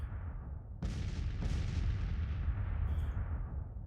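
In Grand Tactician: The Civil War, a deep, distant cannon boom from an artillery battery rolls out over a steady low rumble of battle ambience, followed by a second fainter report.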